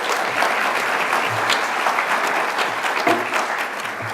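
Steady, continuous audience applause at an awards ceremony, a dense wash of clapping hands that holds evenly for the whole stretch without pause.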